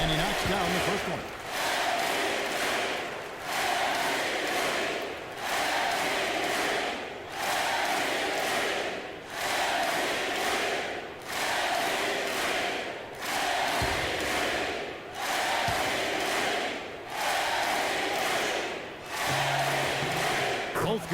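Crowd noise in an NBA 2K basketball game, New York against Dallas, swelling in repeated waves of roaring cheers at a steady pulse, with commentator talk over it.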